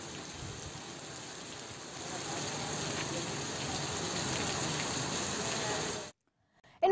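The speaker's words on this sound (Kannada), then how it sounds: "ಮಳೆ ಜಾಸ್ತಿಯಾಗಿ ಬರ್ತಾ ಇದೆ" Heavy rain pours down across districts in Karnataka as a steady, dense hiss that swells slightly midway, then cuts off abruptly near the end, with no voices.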